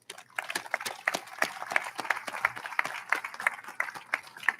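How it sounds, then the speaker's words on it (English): A round of applause for a graduating middle school class at a school closing ceremony, clapping sustained for several seconds with individual claps standing out, close to the listener. "I want to once again congratulate the class of 2025 with a round of applause"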